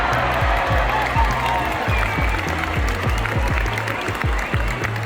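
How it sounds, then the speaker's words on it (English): A crowd at the Sète water jousting festival claps and cheers continuously, while a rhythmic low drumbeat pulses steadily beneath the applause. "One hit sends the jouster flying into the water, and the crowd erupts"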